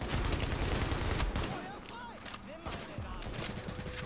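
Rapid automatic gunfire bursts crack in The Division, dense and loud at first, then thinning into scattered shots over an ongoing combat backdrop.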